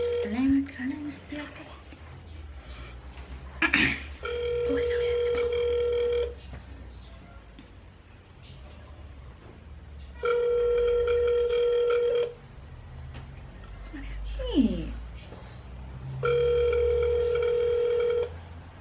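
Telephone rings during a prank call, three long electronic ring bursts spaced several seconds apart, loud and clear, with people talking in the gaps between rings.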